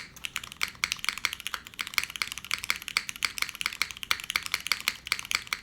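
Fingers type quickly on a mechanical keyboard fitted with X-ray keycaps, producing close, crisp clacks in an irregular, rapid rhythm.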